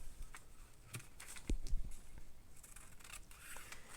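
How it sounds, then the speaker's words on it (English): Scissors snip paper along a dashed line, making soft, close, crisp cuts in short irregular bursts, quiet against a hushed room. "I'm cutting on the dash line, but I'm stopping when I get to the colors or those green dots."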